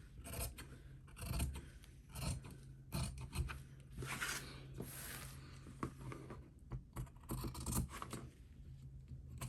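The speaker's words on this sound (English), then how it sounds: "I am going to trim this down and clip in some notches" Scissors snipping and trimming dress fabric around a front V neckline, clipping small notches, with repeated close crisp cuts and rustling of cloth, no talking.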